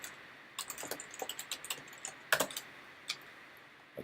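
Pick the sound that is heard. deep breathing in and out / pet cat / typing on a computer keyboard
typing on a computer keyboard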